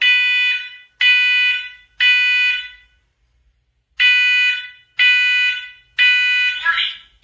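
A First Alert SMCO500V combination smoke and carbon monoxide alarm sounds its test: loud, piercing electronic beeps in two groups of three, with a pause between the groups and a brief murmur at the end.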